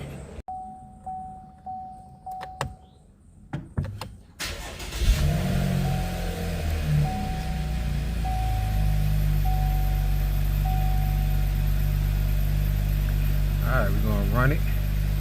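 A 2019 Chevy Camaro with the 3.6 engine cranks and fires up after a few clicks and taps, then settles into a loud, steady idle up close, with a brief faint chirp near the end.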